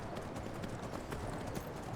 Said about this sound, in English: And what horse was that we saw running past?